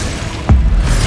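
An ice spell cast in the game Hogwarts Legacy on PS5 lands as a single sharp burst with a low boom midway, set against a steady rumbling game background, no voices.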